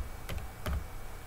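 A couple of quick keystrokes on a computer keyboard, entering a cryptocurrency name on an exchange website: two short, separate taps over a low background hum.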